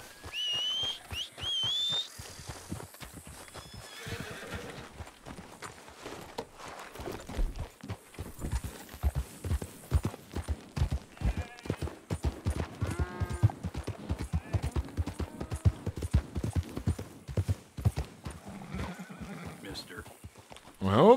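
In the Western video game Red Dead Redemption 2, a horse clip-clops in a steady rhythm of hoofbeats and neighs now and then, while people talk over it and someone whistles near the start.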